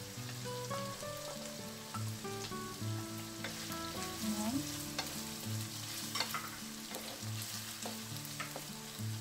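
Ground pork sizzles and fries in a pan as sweet corn is added and stirred in, with a steady crackling hiss, occasional scraping stirs and a background hum and tone throughout, close and without talk.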